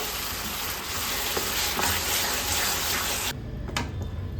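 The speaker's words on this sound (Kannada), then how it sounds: "ಟೊಮೆಟೊನ ರುಬ್ಬಿ ಪೇಸ್ಟ್ ಮಾಡಿದ್ನಲ್ಲ ಅದನ್ನು ಕೂಡ ಇವಾಗಲೇ ಸೇರಿಸ್ಕೊಂಡು ಚೆನ್ನಾಗಿ ಫ್ರೈ ಆಗಬೇಕಿದು" Ground rajma and tomato paste frying in a pan for rajma curry, a loud close sizzle with stirring scrapes that cuts off suddenly near the end, leaving faint clatter.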